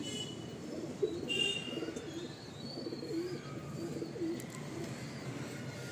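Soft repeated cooing from loft pigeons carries on in rolling low phrases, with an occasional brief chirp and a faint flutter against the steady murmur.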